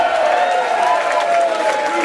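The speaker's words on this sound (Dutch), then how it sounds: "Graag een applaus voor Leon!" An audience at a Dutch carnival brass-band evening applauds for a performer named Leon, a dense, loud, continuous clapping that fills the short stretch.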